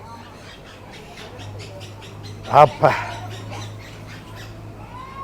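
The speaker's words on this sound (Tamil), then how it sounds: "கிளிகள் சத்தம் கேட்டுக்கொண்டிருக்கிறது" Parrots at the Trichy bird park give two loud, sharp squawks close by, with a person speaking briefly under a steady background hum.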